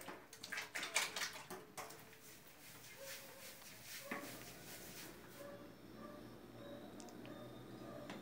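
Water is poured onto hair in a few splashy bursts at the start, then softer trickling and dripping continues, all quiet and close.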